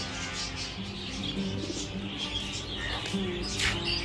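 Soft, low cooing of pigeons repeats against a background of light chirps and faint murmuring voices.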